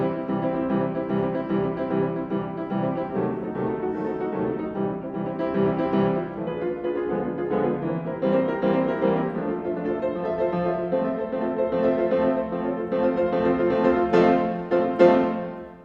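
Fast Colombian pasillo, a waltz-like triple-meter rhythm, played on plucked strings as a dense continuous ensemble with steady strummed pulses, loud and close, building slightly toward the end with no voices.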